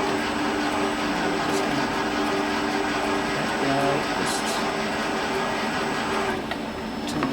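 Graco E-10HP spray machine running during a flush, a steady loud mechanical whir and hum with a constant tonal drone, a brief rattle near the end.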